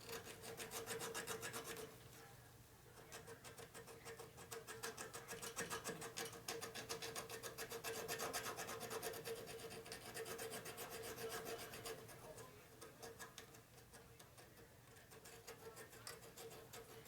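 Metal being filed by hand on a custom chopper bike, a faint, steady rasp of rapid repeated strokes that continues without pause and without talk.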